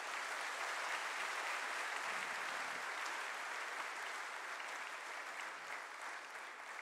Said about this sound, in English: I request all of you to give him a very thundering round of applause